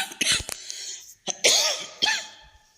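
Several sharp coughs and throat-clearing bursts close to the microphone, spaced irregularly over a few seconds, with no talking.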